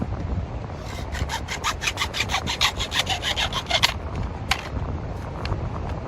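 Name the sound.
sawing a piece of drain pipe in half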